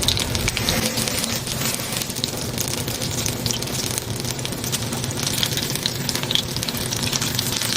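Capsicum bajji, batter-coated bell pepper fritters, fry in hot oil with a dense, steady, close sizzle that keeps going without a break and has no talking over it.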